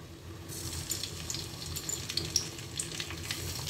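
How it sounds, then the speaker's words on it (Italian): Anchovies frying in olive oil with garlic and chili give a steady, soft sizzle with faint crackles and pops throughout, close and fairly quiet, with no voices. "quando comincia a soffriggere aggiungo le alici"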